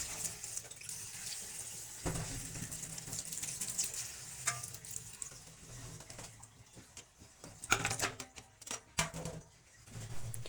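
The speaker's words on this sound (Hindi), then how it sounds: "अब इसमें डाल देते हैं पानी।" Water pours and splashes into a pressure cooker pot of beef paya, a soft hissing stream with bursts of louder gurgling and clinking toward the end; quiet and close.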